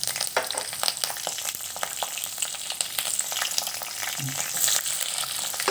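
Onions, mustard seeds, cumin and green chillies sizzle and fry in oil in a pan, with a continuous crackling hiss broken by scattered pops and spoon stirring scrapes.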